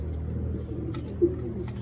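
A backyard pigeon loft where a keeper houses his birds, with a soft low cooing murmur running throughout and one brief, slightly louder coo near the middle, heard close and alone.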